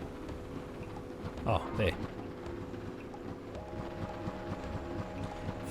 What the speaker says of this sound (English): Ride the sand cutter through the ring and back.